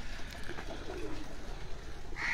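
A Golden Sunaf pigeon coos at a farm house loft, soft and fairly distant, with low murmuring calls over a quiet background.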